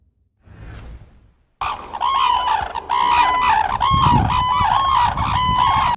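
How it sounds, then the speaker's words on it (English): Red-crowned crane, also called the Japanese crane, calling loudly with repeated harsh, trumpeting honks in a steady run, after a brief softer note, with no talk. "Red-crowned crane."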